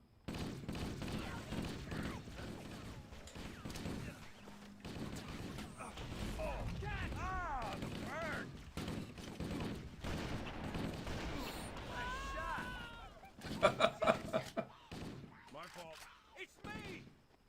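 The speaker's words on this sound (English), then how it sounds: "Oh, they were shooting each other!" Gunfire from the Halo: Combat Evolved Anniversary game, a busy mix of shots, bursts and weapon mechanisms under frequent talking, with a louder cluster of rapid shots near the end.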